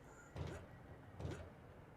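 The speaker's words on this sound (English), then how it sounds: "Push open this door here." A door pushed open in the eerie horror game Conarium, sounding as two quiet, muffled creaking scrapes under a steady low ambient hum.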